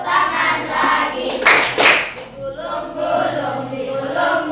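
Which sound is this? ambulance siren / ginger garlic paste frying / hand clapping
hand clapping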